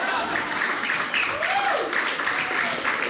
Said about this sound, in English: Don't applaud her too much.